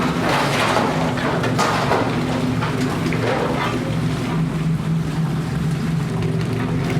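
A steady, dense sizzle of chips frying in a deep fryer at a chip shop, a constant crackling hiss with a low hum underneath.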